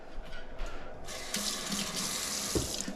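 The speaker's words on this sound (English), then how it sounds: "The little spritz of water." Water is spritzed and splashes onto coffee beans ahead of grinding, a close hissing spray that starts partway through and continues in bursts, with a small clunk near the end.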